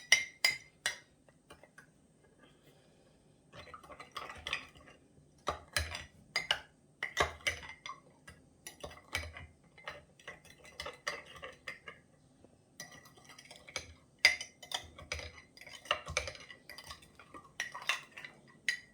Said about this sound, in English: So give that all a stir. I'll just use this. Yep, use that spoon.